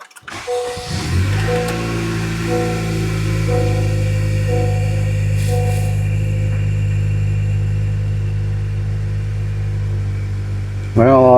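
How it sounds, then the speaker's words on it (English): A 2020 Honda Accord engine cranks briefly, catches and settles into a steady, close idle hum that runs evenly until the end. "I'm going to start the vehicle."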